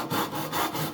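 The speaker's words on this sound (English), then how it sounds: "So now you start to saw" Handsaw cutting through wood while building a patio table, a steady back-and-forth rasp of about five strokes in one second, close and clear with no talking.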